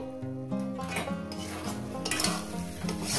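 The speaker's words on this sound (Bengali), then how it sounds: "ঘিটাকে দিয়ে ভালো করে কষবো" About four spoons of ghee fry in a pan for a Bengali jackfruit curry cooked with goat fat, a continuous close sizzle with steady scraping of a stirring spoon and no voices.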